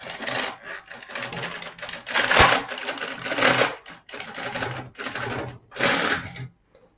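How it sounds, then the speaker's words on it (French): An intarsia carriage on a domestic knitting machine is pushed across the needles, producing a rasping mechanical clatter in repeated sweeps with short pauses between them, close and fairly loud. "Et je passe mon chariot en vérifiant que tous les clapets soient bien ouverts."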